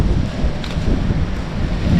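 Wind blows hard and steadily across the microphone, a dense low roar with no breaks for about two seconds.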